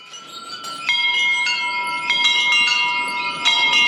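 Many temple bells at Kalinka temple in Uttarakhand ring close by, struck repeatedly in overlapping clangs whose bright metallic tones linger and blend into a steady shimmering wash.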